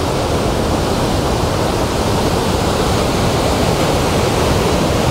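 Close, loud waterfall in Abkhazia near New Athos: a steady, dense roar of falling water that keeps going without a break.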